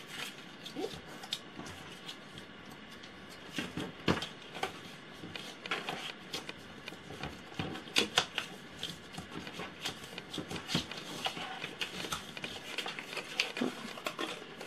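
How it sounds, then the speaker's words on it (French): Paper gift box being creased along its fold lines by hand, a close run of soft rubbing and scraping strokes with scattered crisp taps and rustles, no talking. "Et on marque les plis."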